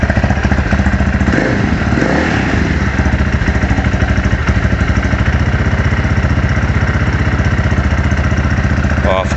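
A KTM LC4 640 single-cylinder motorcycle engine runs steadily after an oil change, a loud, close, rapid thumping idle that holds evenly throughout.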